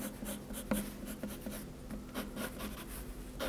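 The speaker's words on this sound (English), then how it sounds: "I've sort of moved my pencil a bit and I'm doing bigger strokes so I can cover more" Pencil strokes scratch across paper during an animal drawing, a steady run of soft, rhythmic rubbing marks close up, with a few sharper taps, and no voices.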